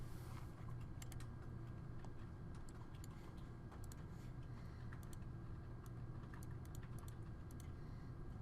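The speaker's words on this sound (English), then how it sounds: "we can simply type in CMU shaft wall" Text is typed on a computer keyboard as a short run of faint, sparse key clicks over a steady low hum.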